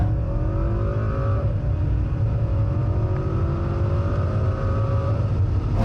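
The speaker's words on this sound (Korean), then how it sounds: "여기서 이와 같은 파워트레인의 조합을 통한 가속 성능에 대해서도 한번 알아볼까요?" Cadillac ATS coupe accelerating hard, its engine note climbing steadily in pitch, dropping at a gear change and climbing again, loud and close from inside the car with no talk.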